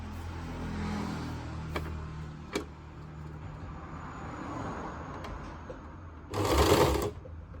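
A sewing machine stitches churidar pant fabric at low speed in a quiet, steady run with soft ticks, then a louder burst of faster stitching near the end.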